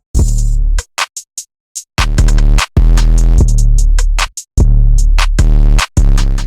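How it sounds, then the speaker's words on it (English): Bouncy trap-style drums built from two layered 808 patterns, booming bass hits and crisp percussion in choppy bursts separated by short gaps of silence, loud and up front with no voices. "we're gonna add some very bouncy drums"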